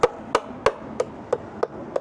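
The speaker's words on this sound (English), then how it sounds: "we're gonna take our black mounting hardware and our rubber mallet, and we're gonna hammer it in just a little bit" Rubber mallet tapping black plastic shutter mounting hardware into a brick wall, seven sharp, evenly spaced knocks about a third of a second apart, close and clear with nothing else heard.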